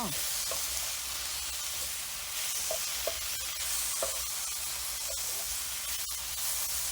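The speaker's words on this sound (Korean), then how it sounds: "골고루 간장이 묻어지게 볶아주시면 돼요." Eggplant stir-frying with soy sauce in a hot pan gives a steady, close sizzle and hiss, broken by occasional light scrapes and stirring clicks from the utensil.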